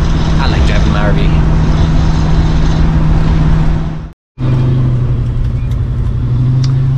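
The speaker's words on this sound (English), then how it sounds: "I like driving my RV." An RV rolls down a road with a constant low engine drone and road rumble, a brief cut to near silence midway before the steady motor hum resumes.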